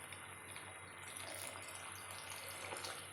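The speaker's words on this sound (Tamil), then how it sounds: "இதில் இன்னும் கொஞ்சம் தண்ணி சேர்த்துக்கலாம்." Water is poured into a pot of chapati kurma as it cooks, making a steady, soft gushing splash that stays even throughout.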